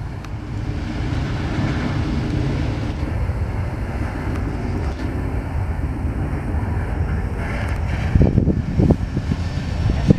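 Norfolk Southern local freight train reversing through Marion, Ohio, a steady low rumble with wind noise, then rattling rail clatter building near the end.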